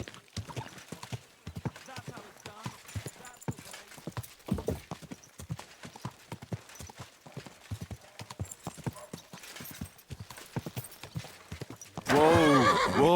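In the video game Kingdom Come, hooves clip-clop steadily across a hard surface, then a horse gives a loud, close neigh at the end.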